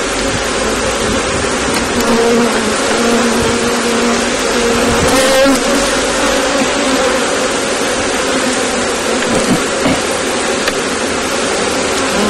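Honeybees swarm around an open beehive, their dense, steady buzzing loud and close throughout, a continuous droning hum with individual bees whining past.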